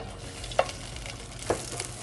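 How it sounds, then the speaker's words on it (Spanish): A spoonful of butter with a splash of oil sizzles in a frying pan, a steady soft hiss close by with two brief sharp pops or taps. "Aquí en este sartén voy a poner una cucharadita de mantequilla con un chorrito de aceite."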